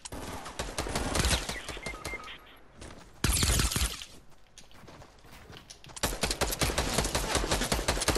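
Bursts of rapid gunfire in Fortnite crackle loudly in fast volleys, broken by brief lulls, with sharp overlapping shots like an intense firefight.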